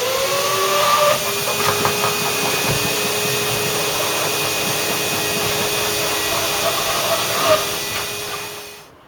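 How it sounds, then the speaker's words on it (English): A vacuum cleaner hoovers a car's interior to clear out debris, giving a steady, loud, hissing roar that runs continuously close by with faint shifting tones and no talk. "the first task we've got to do is to hoover the car completely"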